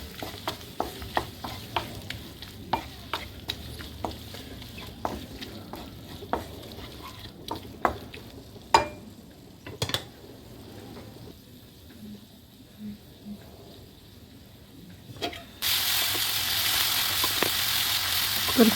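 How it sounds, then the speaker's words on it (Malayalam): Tomatoes sauté in a pan for chicken biryani, with a spoon scraping and stirring in frequent sharp clacks over a steady low sizzle; near the end a louder, broad frying hiss swells up and holds. "പിന്നെ നമുക്ക് തക്കാളി ഇട്ട് അതും നല്ലപോലെ തന്നെ നല്ലതായിട്ട് നമുക്ക് വഴറ്റിയെടുക്കണം"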